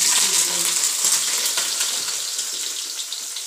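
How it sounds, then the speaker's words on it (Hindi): Chopped bottle gourd hits a pan of hot, reddened cumin and fries in a loud, dense, hissing sizzle that carries on steadily and eases slightly over time. "अब मैं इसमें लौकी डालूंगी।"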